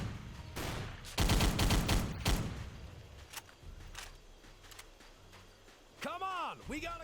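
Gunfire from machine gun nests during a video game mission, heard as a dense burst of loud shots early on, then sparser distant pops, with a speaking voice talking over much of it.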